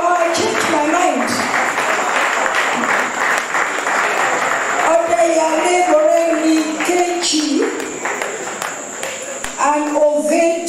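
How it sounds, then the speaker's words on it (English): An audience at a 2018 digital-skills contest closing ceremony applauds steadily as award winners come forward, a continuous wash of clapping with tonal voices and music-like lines running over it throughout. "Let's clap for them as they come."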